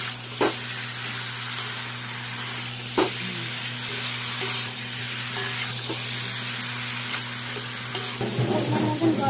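A fish head with spices sautés in a pan, a dense steady sizzle with a background hum, punctuated by occasional spoon scrapes and taps, growing busier with stirring near the end.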